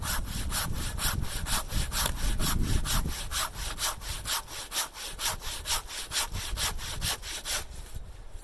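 A hand saw works through a log of firewood at a sub-zero winter campsite, steady back-and-forth strokes rasping close and loud, about fifteen even strokes in a regular rhythm with no talking.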